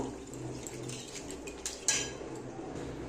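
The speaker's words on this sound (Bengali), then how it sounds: "এবার আমি একটু জল দিয়ে দেব। ব্যাস, এবার একটু নেড়ে দেব।" Faint utensil scrapes and a couple of light clinks against a pot as fish curry masala is stirred after water is added, quiet and sparse with no speech.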